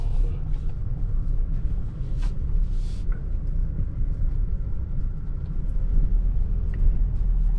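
A car with an automatic transmission cruises along a road beside a canal, giving a steady low engine and tyre rumble with road noise throughout and no voices.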